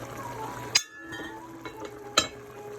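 Vegan curry simmers in a covered pot, a low bubbling bed broken by two sharp metallic clinks of a lid or utensil against the pot, close by with no voices.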